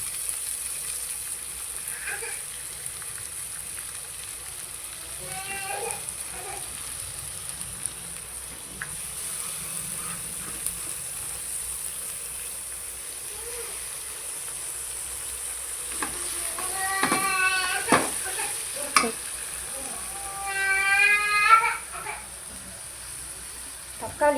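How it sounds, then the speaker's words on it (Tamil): Tomatoes and curry leaves dropped onto sautéed onions in a pan give a soft, steady sizzle with occasional stirring scrapes, heard faintly beneath a voice talking throughout. "இந்த ஸ்டேஜில் வந்து நம்ம தக்காளியும் கருவேப்பிலையும் ஆட் பண்ணிக்கலாம்."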